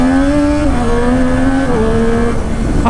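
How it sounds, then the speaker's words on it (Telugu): A Triumph Street Triple motorcycle at full throttle on an empty road, its engine note rising loud and close through the gears with brief dips at each shift, no voices. "థ్రాటిల్ వేస్తుంటే వీలీ అవుతుంది."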